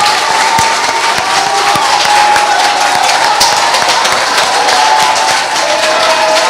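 Steady applause from an audience at a company press conference, loud and continuous throughout, with a faint murmur of crowd noise underneath and no clear talking.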